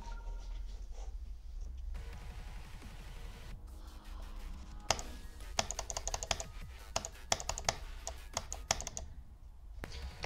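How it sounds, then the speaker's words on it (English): Hard mouse clicks, recorded at high quality while testing click delay, sound as a run of sharp, close clicks, sparse at first and then rapid in bursts, with a low steady hum underneath and no talking. "I'll make sure to click as hard as possible to make them audible for sure."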